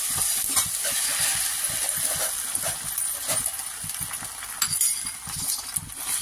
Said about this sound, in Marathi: हे बघा आता आमलेट टाकते आहे.